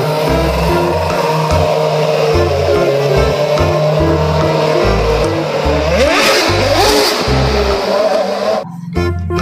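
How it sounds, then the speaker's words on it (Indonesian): A toy F1 race car engine revs loudly and continuously, rising and falling in pitch in a steady pulsing rhythm, with a brief sweep partway through before cutting off near the end. "Yang ini ada mobil balap F1."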